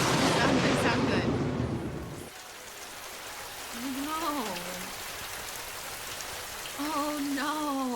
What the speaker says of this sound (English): It just got super rainy.